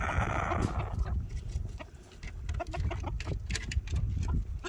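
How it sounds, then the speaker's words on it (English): A rooster clucks repeatedly in short, close bursts over steady low rumbling background noise outdoors. "There goes one of our roosters in."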